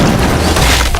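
A cartoon jelly bomb explodes in a loud, dense burst of crashing, shattering noise that fills the whole moment, with no voices.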